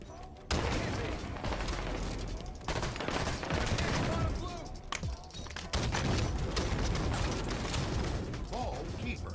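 Sustained Halo 5 gunfire in a Halo 3 Classic match, rapid automatic bursts and clanking weapon mechanisms filling the whole stretch after a sudden start, loud and dense with brief gaps, a voice occasionally speaking beneath.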